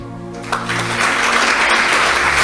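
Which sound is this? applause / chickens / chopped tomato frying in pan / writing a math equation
applause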